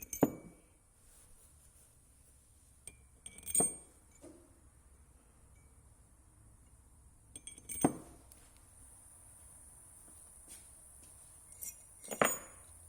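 Metal engine bolts from a 6.0L GMC engine, handled during a crankshaft bearing install, give a few sharp, isolated clinks spaced several seconds apart, with quiet background between them.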